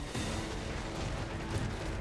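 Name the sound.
cannon shots in a video game battle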